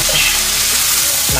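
Vegetables with mushrooms frying in a pan, a loud continuous sizzle with a short stirring scrape near the end, close up and without speech.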